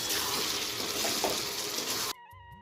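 Food sizzles and fries in a hot pan in a home kitchen as it is sautéed, a dense, steady hiss that stops abruptly, followed by quiet background tones.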